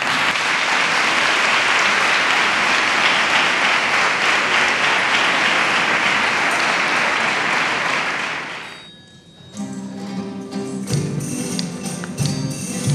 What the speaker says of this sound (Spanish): un fuerte aplauso para el coro de los niños de Belén.